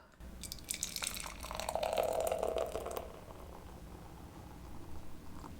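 Strata IPA craft beer is poured into a glass, making a soft, close gurgling and fizzing stream for about three seconds, then fading into quiet hiss.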